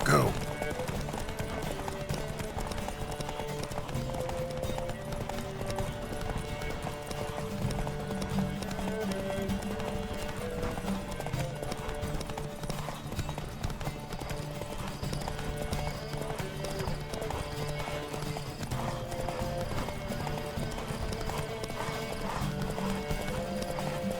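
Steady clip-clop of galloping horses runs throughout a race in the video game The Witcher 3: Wild Hunt, with a horse whinny, layered over continuous music and busy background sound.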